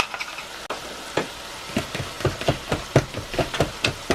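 Chuckwagon beans' meat mixture sizzling in a cast iron pan while a utensil stirs and scrapes through it in repeated knocks and scuffs over a constant hiss, close and fairly loud.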